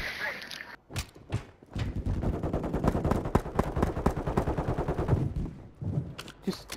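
Sustained automatic gunshots in a Warzone-style battle royale video game, dense and loud for several seconds with a few sharp isolated shots before and after, thinning out at the close.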